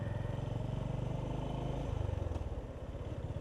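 A Honda GB350 S single-cylinder motorcycle drones steadily while being ridden, its low pulsing engine note holding even and dipping slightly partway through.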